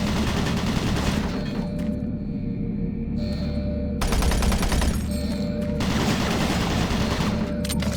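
Automated turret guns in Doom 3 fire in dense, rapid bursts of loud mechanical gunfire, pausing briefly between volleys over a constant industrial hum.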